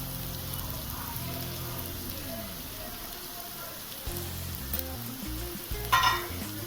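Finely chopped beans, carrot and capsicum sauté in a pan for a Chinese-style dinner, with a steady close sizzle and occasional stirring scrapes, plus a brief louder clatter near the end, over soft background music.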